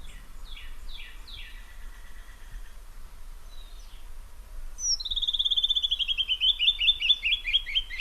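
A songbird in Southeastern Arizona sings beneath an escarpment, opening with a few short descending chirps and then breaking into a long, loud, bright trilling song that rises and falls to the end.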